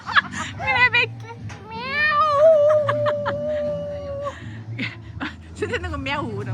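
A voice imitates a cat's meow with drawn-out, rising and falling mewing tones amid laughter and chatter from another person nearby.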